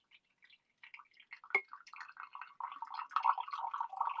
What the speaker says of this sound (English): Let's pour in the coffee and let's see what this tastes like.